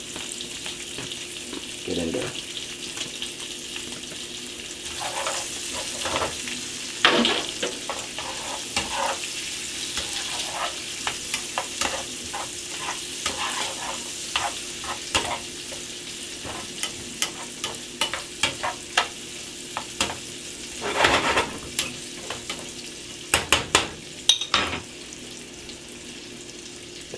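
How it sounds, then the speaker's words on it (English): Hot dogs sizzling and frying with bacon in an oily pan, a steady crackle and spatter with occasional stirring scrapes and louder pops, and a brief spoken remark. "So now that it's nice and oily, I'm going to add my hot dogs."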